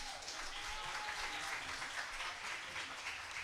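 Steady applause from a Good Friday worship audience, a dense continuous wash of many hands clapping at moderate distance, without pauses.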